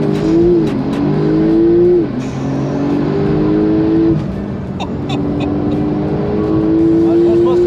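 Porsche GT Street R engine revving with brake and accelerator held together, a loud, close roar rising and falling in several surges while someone talks over it.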